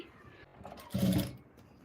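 A sewing machine stitches the folded neckline of a blouse in a short, loud burst of running stitches lasting about a third of a second, with quieter room noise on either side.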